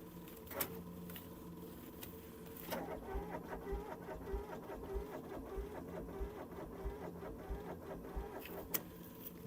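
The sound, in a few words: Avant compact loader engine cranking in cold weather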